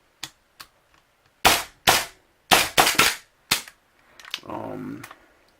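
A Tokyo Marui Hi-Capa airsoft pistol with a 3D printed slide fires a run of sharp, snappy cracks, first two light pops, then several loud shots in uneven pairs and singles, followed by a brief mechanical rattle, close by.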